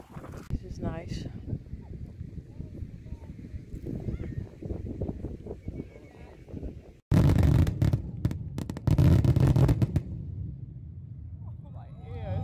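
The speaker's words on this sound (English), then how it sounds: "Going to watch the fireworks." Fireworks going off over a Los Angeles street, a dense burst of loud, crackling bangs arriving suddenly after a stretch of crowd chatter, with voices continuing beneath and after the blasts.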